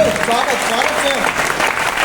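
An audience at a poetry recital claps steadily throughout, a dense patter of applause with a voice faintly audible underneath.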